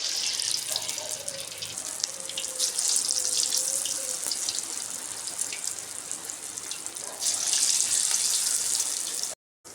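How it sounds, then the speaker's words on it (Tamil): Potato balls frying in hot oil, a continuous loud bubbling hiss that swells near the end, with a faint tone partway through, then abruptly cuts off. "எண்ணெய் நல்லா காஞ்ச உடனே எடுத்து போட்டுக்கோங்க"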